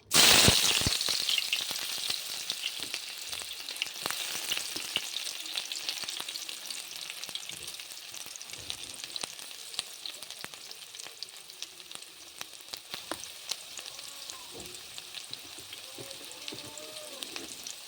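Chopped onions hit hot oil in a heated wok-style pan for a snail dish, setting off a loud, dense sizzle that starts abruptly and keeps crackling steadily, with faint stirring scrapes near the end.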